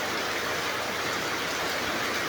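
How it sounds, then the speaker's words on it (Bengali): Heavy rain with a storm pours in a steady, dense hiss, loud and continuous with no pauses and no voices. "ওয়াও, কি বৃষ্টি"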